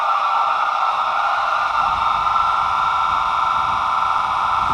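An alarm in a video game rings as a steady, continuous electronic buzzing tone. It is fairly loud and unbroken over a faint noisy background, with no talk.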